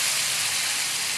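String beans hit hot oil with golden-brown frying garlic and set off a loud, bright, continuous sizzle and hiss, close up and with no talking.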